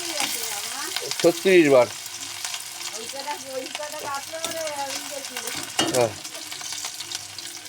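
Ginger frying in hot oil for dal makes a steady broadband sizzle throughout, with someone talking over it at close range.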